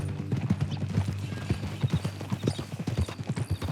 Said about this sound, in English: That new horse?